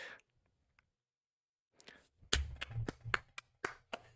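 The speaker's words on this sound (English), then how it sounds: "I knocked my camera with my egregious clapping." Hands clap in a quick burst of about eight sharp, loud claps at close range, after a brief murmur and a near-silent pause, during a Cubs vs Dodgers baseball watch-along.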